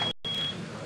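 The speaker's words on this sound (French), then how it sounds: "on a entendu le buzzer" An electronic buzzer sounds during a pétanque round-of-32 match: a thin, steady high beep lasting under half a second, faint against low background noise.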